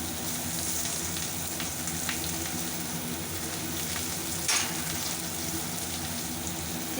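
Chopped onion frying in a pan after cumin, radhuni and chopped ginger for a Bengali tangra fish dish, a steady close sizzle with a brief louder crackle midway and no talk.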